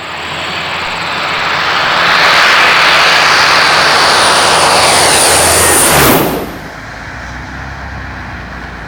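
A Royal New Zealand Air Force No. 40 Squadron military transport aircraft roars past at an Omaka air display. The loud engine roar swells, peaks as it passes close overhead around six seconds, then drops away sharply into a distant rumble.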